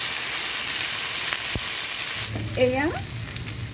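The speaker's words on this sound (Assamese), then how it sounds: "এয়া মিডিয়াম ফ্লেমত ফ্ৰাই কৰি আছোঁ" Fish curry masala frying on a medium flame, a soft steady sizzle throughout with a brief sharp tap, and a voice speaking briefly near the end.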